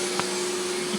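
A German-made vacuum cleaner runs on carpet with a steady, close motor whine and airy roar, alone and without speech.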